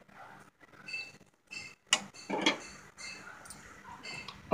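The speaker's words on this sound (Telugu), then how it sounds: "ఒకసారి బాగా మిక్స్ చేసుకొని" Corn flour halwa being stirred with ghee in a pan, heard as soft irregular scraping and light clinks of a utensil against metal, close by with short quiet gaps and no talking.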